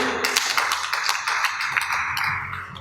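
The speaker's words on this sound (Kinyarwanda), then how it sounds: "amashyi" Crowd applause at a wedding ceremony, dense steady clapping with scattered sharp claps standing out, loud and close throughout.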